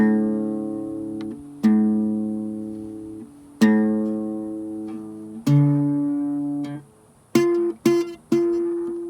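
The open fifth (A) guitar string is plucked repeatedly, each note ringing and decaying, with a few quicker plucks near the end.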